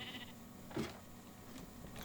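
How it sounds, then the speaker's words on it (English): A mountain sheep in a farming video game gives one short, quiet bleat partway through, set against soft, steady background ambience. "There we do have the mountain sheep."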